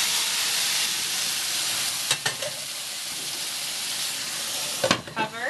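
Boiling stock goes into a hot pan of lightly toasted couscous, producing a continuous broad hiss and sizzle with a few brief bubbling pops and clinks, steady throughout.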